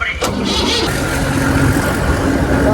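A village tractor engine cranks and catches with a sharp start, then settles into a steady loud idle rumble close by, while people talk over it.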